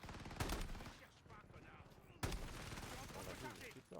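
Gunfire in the video game Warzone: two loud, sharp bursts of shots about two seconds apart, with a rumbling tail and quieter game sounds in between, while a player speaks faintly.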